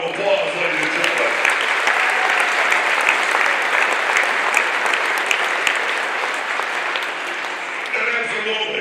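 Banquet audience at a Hall of Fame dinner bursting into sustained applause, a dense, steady wash of many hands clapping close and loud for the full stretch, no voices standing out.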